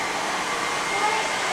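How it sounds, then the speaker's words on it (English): A hair dryer blows with a steady, loud, breathy roar in a STEAM lab at Fernbank Museum of Natural History in Atlanta, holding constant over a short stretch. "it sounds like there's a vacuum cleaner going off because We're doing this. it's a hair dryer"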